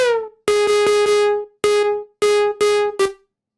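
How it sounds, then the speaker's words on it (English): A gritty, distorted synth pluck plays a choppy riff, the notes buzzing and sustained longer with a harsh, saturated edge. "Then I add some distortion, some overdrive,"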